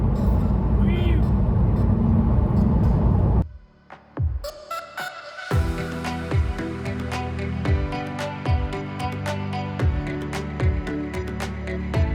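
A car drives into a road tunnel in Norway: steady open-road rumble gives way to a brief hollow hush, then a louder enclosed engine and tyre drone with regular thumps from the road surface, as if passing joints or lights, under occasional talk.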